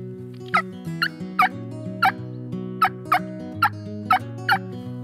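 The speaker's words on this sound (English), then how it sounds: "turkeys will also do what's called a cut." Sharp, rapid wild turkey cutting clucks burst out in an irregular series over a sustained droning tone, close and fairly loud, during a spring turkey hunt.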